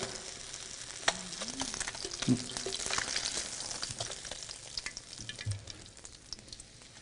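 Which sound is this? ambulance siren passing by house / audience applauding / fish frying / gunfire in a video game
fish frying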